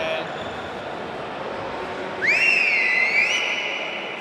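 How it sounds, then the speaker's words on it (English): A loud referee's whistle at a LudoSport lightsaber combat tournament arena in Manchester, one long sharp blast with a rising and wavering pitch, sounding clearly over steady hall ambience. "Another very impressive whistle there from Bruce."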